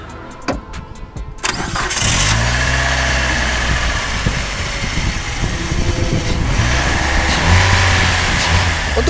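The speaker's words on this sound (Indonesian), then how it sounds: "Kita coba dengerin suara mesinnya ya." A Chrysler PT Cruiser Limited 2.0 inline-four, 2000cc DOHC, cranks briefly and fires up. It then settles into a steady, close, fairly loud idle with a mid-pitched hum.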